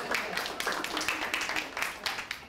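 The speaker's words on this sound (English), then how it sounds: "Give him a round of applause." A short round of applause from a small audience, with dense overlapping handclaps sustained for a couple of seconds at moderate loudness, alongside a little background voice.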